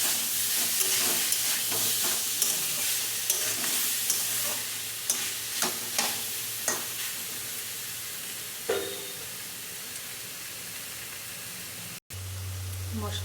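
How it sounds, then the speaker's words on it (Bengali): Pointed gourd and fried potatoes are stirred and sautéed in spice paste, giving a continuous sizzle broken by repeated close spatula scrapes and clacks against the pan, then a short hum after a cut. "ভালো করে নাড়াচাড়া করে পটল আলুটা ভালো করে নাড়াচাড়া করবো। মশলার মধ্যে একটু কষা কষা করবো।"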